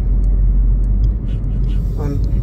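Steady low road rumble from inside a moving car heading into Edinburgh on an Easter road trip, continuous and close, with faint higher sounds near the end.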